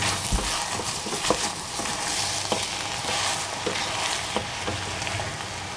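Eggplant and squash cook in hot oil in a pan, with a steady, close sizzle and crackle and occasional soft stirring taps.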